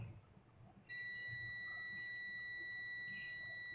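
A multimeter in continuity mode testing a shorted diode gives a steady, high electronic beep that starts abruptly about a second in and holds without a break. A quiet background hum sits under it.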